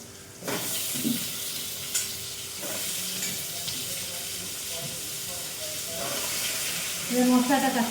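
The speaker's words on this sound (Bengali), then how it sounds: "আলুটা ভাজি ভাজা হোক" Potatoes fry in a pan in a home kitchen, giving a steady, fairly faint sizzle broken by a few stirring scrapes, with a brief voice-like sound near the end.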